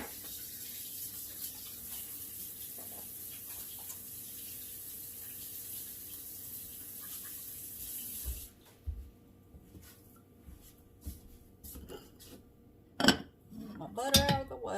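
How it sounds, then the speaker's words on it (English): A kitchen water tap runs steadily for several seconds while hands are washed, then shuts off, followed by scattered clinks and clatters of dishes and utensils near a sink. "let me wash my hands"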